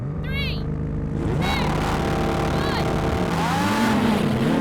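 A Ferrari 296, McLaren 750S, Lamborghini Huracan Performante and Porsche 911 Turbo launching off the line in a drag race, engines roaring and rising in pitch with chirping wheelspin, while a person talks excitedly over the noise.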